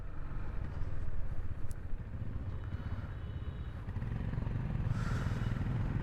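A group of motorcycles riding together, including a Royal Enfield Himalayan, a Bajaj Dominar and a KTM Duke 390, their engines a low rumbling drone with passing roars and wind noise.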